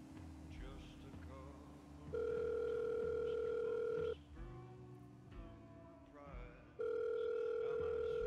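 Phone ringing tone in a video game: two long, steady electronic tone bursts with a gap between them, sounding over a bed of in-game background sound.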